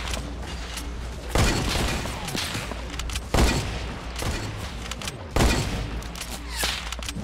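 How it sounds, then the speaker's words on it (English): Bursts of video game gunfire, with repeated loud volleys of rapid shots and booming impacts at a steady distance, about two seconds apart. "Who the fuck is shooting at me?"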